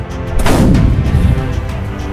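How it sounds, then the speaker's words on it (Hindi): Cannon salute booming out at a fort, one heavy low blast that rolls and rumbles for about two seconds, loud and alone. "उसी के साथ तोपों की सलामी दे दी गई"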